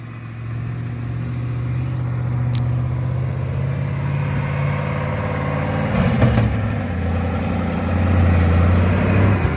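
A mini Chevrolet S10 monster truck engine runs steadily outdoors, a low, even rumble that stays loud and continuous with a slight rise in intensity near the end.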